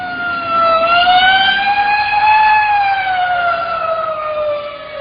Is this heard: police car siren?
yes